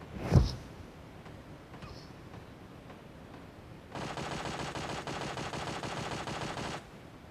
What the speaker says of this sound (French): J'entends des tirs.